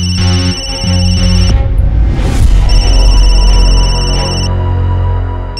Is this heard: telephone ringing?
yes